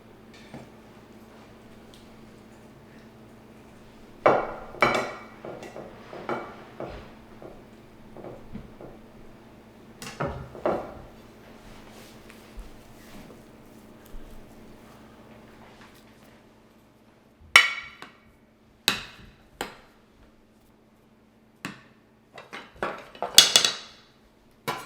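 A knife cuts cooked steak into slices on a plate or board, giving sparse clinks and scrapes of cutlery and dishware in short bursts separated by quiet gaps.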